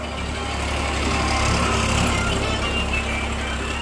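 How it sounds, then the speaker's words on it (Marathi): Tractor driven over harvested rice stalks in a paddy field to thresh the grain, a steady low engine rumble close by that swells slightly in the middle and then eases. "एकदा वळला काढून झाल्यावर परत एकदा त्याच्यावर ट्रॅक्टर फिरवून घेतल्यानी"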